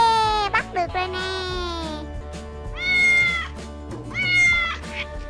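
A cat meows several times in drawn-out, wavering cries during a children's fishing-toy playtime, loud and close, with a voice and background music alongside.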